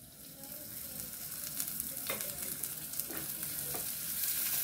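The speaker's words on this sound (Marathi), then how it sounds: "मी आता 1 चमचा तेल टाकते." A spoonful of oil sizzles in a clay cooking pot: a soft, steady hiss heard close up, with a few faint crackles and pops rising over it.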